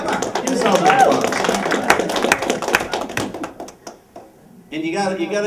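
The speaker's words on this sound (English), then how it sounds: "give yourselves an applause" A senior center crowd at a St. Patrick's Day party claps and taps for several seconds, a dense mix of hands with people talking underneath, fading briefly before chatter and noise pick back up.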